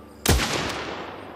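A single sharp, loud gunshot-like blast in the Last Train Home video game, with a heavy low thump and a short ringing tail, followed by a fainter second crack.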